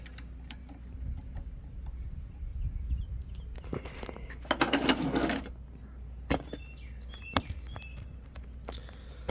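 Close mechanical clicks and small ratcheting turns come from loosening the clamp on an Xhorse key cutting machine for a Ford F-150 key, with scattered taps and a short whirring burst midway, no talking.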